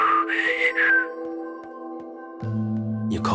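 A character whistles a short rising tune in Pokémon Sun and Moon, with sustained game music tones underneath and a brief noisy burst at the end.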